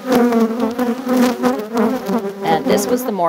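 Honeybees buzz around an open hive during an inspection, a close, dense, wavering drone with shifting pitch as individual bees move near, continuous throughout and heard alone.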